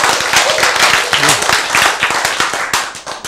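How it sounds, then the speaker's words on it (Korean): A lecture audience claps loudly and continuously, a dense wash of many hands with some sharper individual claps standing out and a faint voice underneath. "우리가 박수 치고 있는 동안에"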